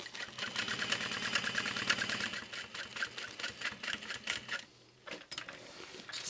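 A sewing machine stitches backpack lining in a rapid, even mechanical patter close up, running steadily before slowing and pausing briefly near the end, then starting again.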